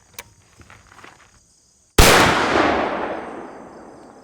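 A muzzleloader rifle fires a single loud, sharp blast outdoors and rings out in a long fading echo, after a few faint clicks and rustles; no one speaks.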